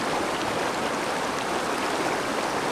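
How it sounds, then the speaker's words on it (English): A small brook at a fishing spot rushes and babbles in a steady, even wash of flowing water, close and constant, with no other sounds over it. "It's a brook."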